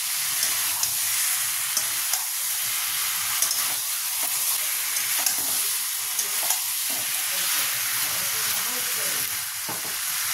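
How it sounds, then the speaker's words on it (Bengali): Half-boiled fried potatoes are stirred and sautéed in an oily spice paste for coconut aloo dum. A loud, steady sizzle runs throughout, broken by soft scraping stir strokes, with no talking. "ভাজা আলুগুলো দিয়ে ভালো করে কষিয়ে নিতে হবে।"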